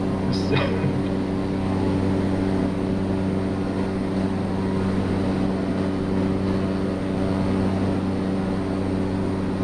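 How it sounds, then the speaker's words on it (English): A civilian airliner descends in Microsoft Flight Simulator 2020 on a London to Paris flight, its steady engine drone holding a constant layered hum for the whole stretch with no talk over it. "That sounds really quick for a civilian plane to come down."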